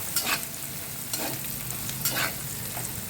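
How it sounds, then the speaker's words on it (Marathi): Green chillies and diced potato sizzle in hot oil for fasting khichdi, with three distinct scraping stirs of a spatula against the pan over a steady frying hiss. "मिरच्या टाकल्या टाकल्या लगेच मी बटाटा टाकला आता कसं मिरच्या आणि बटाटा सारखा परतला जातो"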